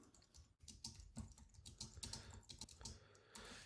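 Fast, continuous clicking of keys on a computer keyboard as Java code is typed, close and fairly quiet, with no talking.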